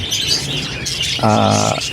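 Pet parakeets (keets) chirp and twitter in quick, bright calls, with a brief tonal note near the end, heard close indoors among faint background rustling.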